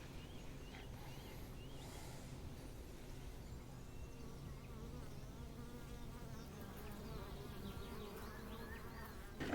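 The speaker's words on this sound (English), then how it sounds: "there's thousands upon thousands of bees out here today" Thousands of bees buzz around flowering African blue basil outdoors, a steady layered hum of many wings with individual insects drifting close, no voices.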